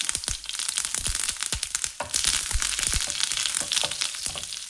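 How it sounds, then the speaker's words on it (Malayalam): Curry leaves hitting hot coconut oil with already-popped mustard seeds in a pan, giving a loud, dense, hissing sizzle broken by quick crackles and a burst of louder spitting midway. "കടുക് പൊട്ടിയതിലേക്ക് കറിവേപ്പില ചേർക്കാം."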